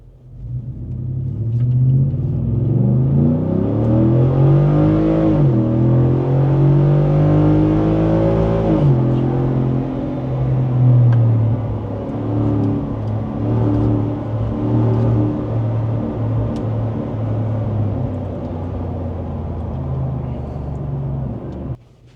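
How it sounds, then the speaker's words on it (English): A 2024 Ford F-150 pickup accelerates slowly from inside the cab, with Pedal Commander off. The engine drone climbs steadily in pitch, drops at a gear change, then settles into a loud, even rumble. "Here's a slow sort of acceleration with the pedal commander off."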